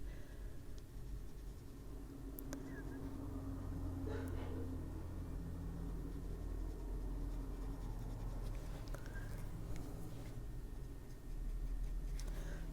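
Pencil shading on an adult coloring page makes a faint, continuous scratchy rasp, steady and close, with occasional small ticks and a quiet background hum.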